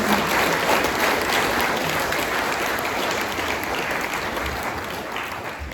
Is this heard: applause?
yes